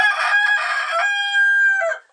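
A rooster crows once, loud and close, in a long, bright, strained call that rises, holds, then trails off into silence.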